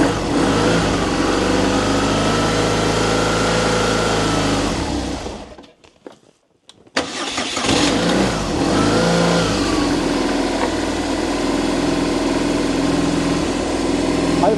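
A motorcycle with a dead battery, started using a Popdeer PD-JA5 5000A jump starter, runs and revs loudly, cuts out briefly to near silence, then roars back and settles into a steady running note.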